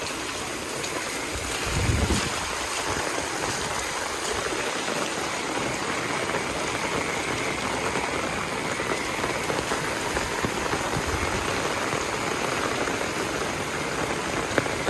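Floodwater pours across a road in Damnagar after heavy rain, a dense continuous wash of water and rain patter that stays steady and fairly close throughout, with no speech.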